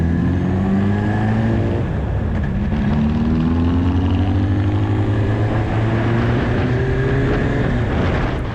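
A race car fitted with a Kawasaki engine circles the Mettet track, its loud, steady engine note rising and falling through gear changes without a break, with no one speaking.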